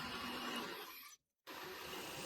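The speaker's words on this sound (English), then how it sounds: "I drill a 8mm hole in the indexing arm." A drill bores an 8mm hole in a metal lathe indexing arm, giving a loud, steady, dense whirring grind that cuts out abruptly for a moment before resuming at the same level.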